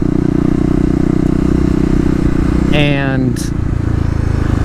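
A 2018 KLX250 motorcycle with stage 1 mods, doing a wheelie in second gear, drones with a loud, steady engine note that briefly climbs in pitch, while a voice speaks over it.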